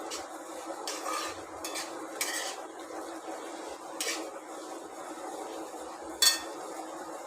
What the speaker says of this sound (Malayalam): കുറച്ച് നേരം നല്ലവണ്ണം ഇളക്കി നല്ല ബ്രൗൺ കളർ ആകുന്നത് വരെയും വെയിറ്റ് ചെയ്യുക